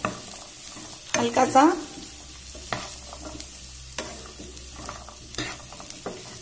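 Cauliflower, peas and chillies for a mixed pickle fry in a pan with a soft background sizzle and a few louder stirring clatters, while a voice briefly speaks.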